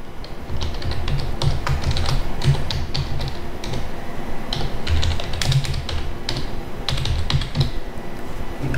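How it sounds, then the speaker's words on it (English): Rapid typing on a computer keyboard at close range, a dense stream of crisp key taps with occasional heavier strokes, loud and continuous with no talking. "Here you can type your code."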